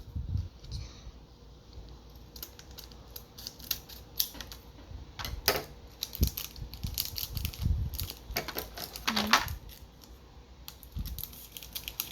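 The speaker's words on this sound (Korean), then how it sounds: "가위로 이거를 또 뚫어볼게요." Scissors snip and crunch through the plastic packaging of a Pokemon Go special jumbo card set, making close, sharp irregular cuts with rustling and crackling in between and no talking.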